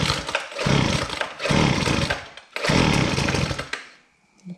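A Husqvarna 122HD60 hedge trimmer's small two-stroke engine is pull-started without choke: three rough, rising bursts of cranking and sputtering, each cutting out, then quiet.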